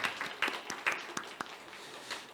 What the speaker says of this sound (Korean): 우리 오늘 오랜만에 방송실 수고하는데 격려의 박수 한번 할까요?